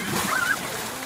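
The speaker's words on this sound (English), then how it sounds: "Water landing." A brief soft splash of something dropping into water, with a short whistling tone over it, lasting about a second.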